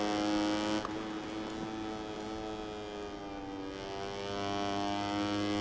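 A motorcycle engine in the MotoGP 20 racing game, on the Aragon circuit, drones steadily and loudly throughout, its pitch shifting slightly as the revs change, with no voices.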